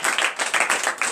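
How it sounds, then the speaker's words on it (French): A church congregation claps and applauds together during a morning prayer service in Benin: dense, continuous hand claps in a rough rhythm, close and lively. "Donnez encore de vive acclamation."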